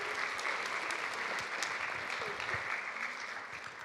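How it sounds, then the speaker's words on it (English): An audience applauds to welcome speaker Richard Lui onto the stage at an EHour talk. Full, continuous clapping holds evenly for the whole stretch. "Everyone, big round of applause for Richard."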